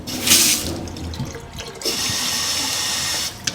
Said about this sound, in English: Alright, so that's with the water back on.